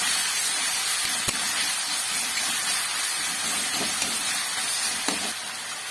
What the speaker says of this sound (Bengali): দিয়ে দিলাম একটু বেশি করে একটু তেল আর দিয়ে দিচ্ছি এখানে তিনটে বড় সাইজের পেঁয়াজকে